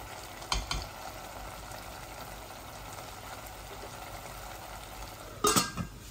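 Tilapia fish and chunky radish pieces sauté in an oiled pan with a steady low sizzle, broken by a couple of stirring scrapes near the start and again near the end.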